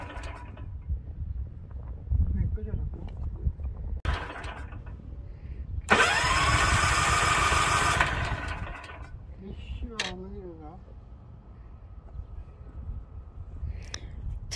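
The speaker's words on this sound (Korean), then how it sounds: "초보농부가 지금 시동을 하는데 뭐가 잘 안됩니다." A walk-behind cultivator engine is pulled over repeatedly and fails to start, with a couple of short mechanical bursts and one longer two-second sputtering run before dying, amid rustling and a man's speech.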